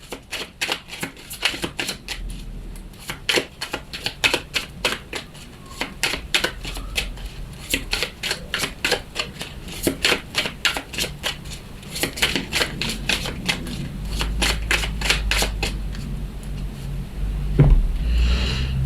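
Tarot cards shuffled and cut by hand, a long run of crisp rapid riffles and flicks with brief pauses between bursts, close and fairly loud, with no talk.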